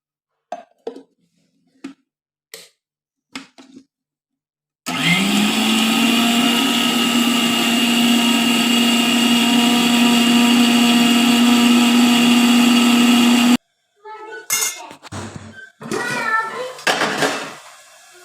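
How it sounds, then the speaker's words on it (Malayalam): A mixer grinder whirs loudly and steadily for several seconds grinding coconut with a little water, with clattering kitchen sounds and a voice before and after. "തേങ്ങ അതിനായിട്ട് മിക്സിയിലിട്ടു, അല്പം വെള്ളമൊഴിച്ച് അതുകൂടെ നമുക്കൊന്ന് അരച്ചെടുക്കാം."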